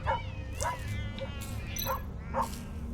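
Dog barks and whimpers from the video game Tales of the Neon Sea, several short yips in a row set against a steady low game soundtrack.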